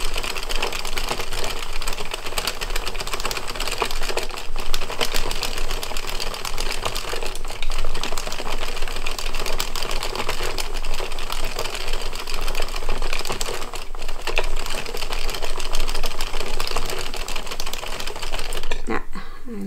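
Knitting machine working up a dog sweater, a steady, loud clattering rattle as the carriage runs across the needle bed, continuing without a break for nearly twenty seconds.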